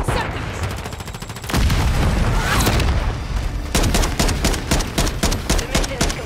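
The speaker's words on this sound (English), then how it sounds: "Throwing a stun grenade!" A stun grenade detonates during a Call of Duty mission, a sudden loud boom amid ongoing rapid gunfire bursts from the game's firefight.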